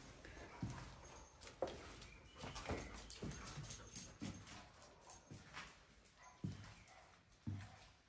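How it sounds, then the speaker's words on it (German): A small dog whimpers in short, soft bursts, repeated irregularly over several seconds, faint and somewhat distant amid quiet background rustling, with no one talking. "Hörst du, wie jetzt bei der kleine Hund vorne?"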